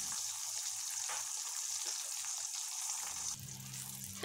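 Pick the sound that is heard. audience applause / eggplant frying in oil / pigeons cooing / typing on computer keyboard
eggplant frying in oil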